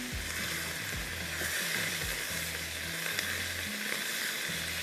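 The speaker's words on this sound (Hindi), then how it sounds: "इसको हम 5 मिनट फ्राई करेंगे।" Mongolian beef fries over high heat in a pan, giving a steady, loud sizzle with bursts of crackle and low clattering stirs throughout, with no talking.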